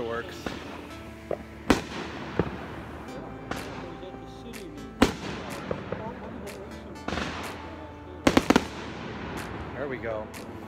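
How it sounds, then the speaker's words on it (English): Scattered sharp bangs and crackling pops of neighborhood Fourth of July fireworks going off at a distance, several loud reports among steady background chatter and outdoor noise. "Then I went outside to check out some of the fireworks that the neighbors were shooting off."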